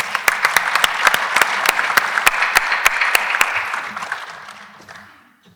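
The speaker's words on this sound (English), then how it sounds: "please give a round of applause for Steve Carter" An audience at the Evolving Spaces Symposium, part of the ACA 2025 Winter Conference in Orlando, applauds a speaker being introduced. The clapping is steady and dense with sharp individual claps standing out, then tapers off near the end.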